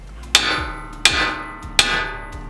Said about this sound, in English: With our ball peen hammer, we're gonna tap right here, the side of the knuckle,